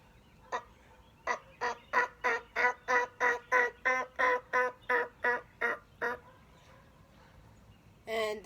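Hen yelps from a turkey call, blown as an assembly call: a steady run of about fifteen evenly spaced, close and clear yelps, then a pause and one more note, with no talking.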